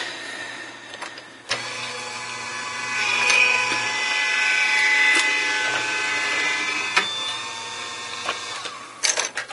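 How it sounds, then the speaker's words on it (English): A manual die-cutting machine grinds and creaks as a texture-fade embossing folder and cutting plates are cranked through, a continuous close rolling whir lasting several seconds with sharp clicks at the start and end. "Send it through the machine."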